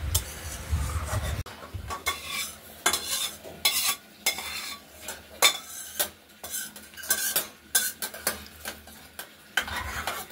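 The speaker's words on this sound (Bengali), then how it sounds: "মুগের ডালটা প্রথমেই ভেজে নেওয়া হলো একসঙ্গে।" Moong dal frying in oil with chilli, bay leaf and cumin, a soft sizzle with repeated scraping and stirring strokes of a utensil against the pan in an uneven rhythm, no speech.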